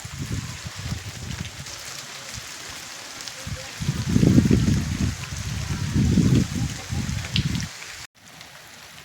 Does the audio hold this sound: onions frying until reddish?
no